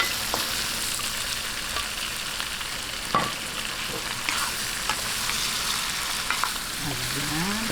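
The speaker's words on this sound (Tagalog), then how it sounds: "Ngayon, lagay na po natin itong ating ribs." Pork ribs fry in a hot pan with a steady, close sizzle throughout, broken by a few sharp clicks and scrapes from stirring.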